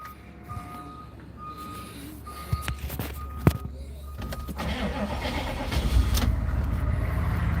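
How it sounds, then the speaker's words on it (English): A truck engine cranks and starts near a tree service yard while loading firewood, with a few sharp clicks and a short cranking burst before the engine catches and settles into a rising, steady rumble. "I gotta do a two-handed start when I start this truck"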